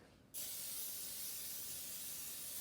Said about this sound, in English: Then you take some Pam and spray that onto your container.